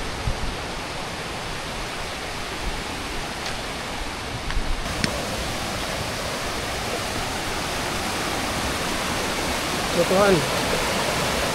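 A waterfall roars as a steady, dense wash of falling water at a farm in La Sierra, constant and fairly loud throughout, with a voice speaking briefly near the end.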